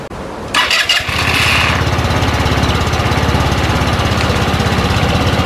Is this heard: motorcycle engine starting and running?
yes